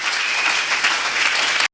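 A church congregation applauding, a dense, loud, continuous clapping from a crowd that cuts off abruptly at the end.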